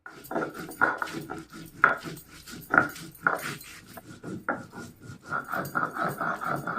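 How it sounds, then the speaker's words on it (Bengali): Dried chili, ginger and cumin with water ground into a spice paste by hand, giving a series of rhythmic rasping, rubbing strokes, close and moderately loud, with no talking. "আমি এখন মশলাটা বাইটে নিচ্ছি"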